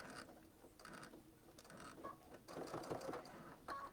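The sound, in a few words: sewing machine stitching quilt binding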